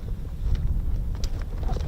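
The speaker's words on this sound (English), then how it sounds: "it's a bit windy" Gusty wind buffeting the microphone outdoors at an air weapons range, a low rumbling roar that rises and falls in uneven surges.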